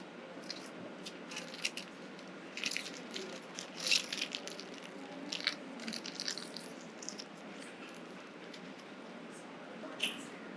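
Foil and cotton being wrapped around fingers soaked in acetone for gel nail removal, giving a steady faint crinkling and rustling, close up, with scattered crisp crackles throughout.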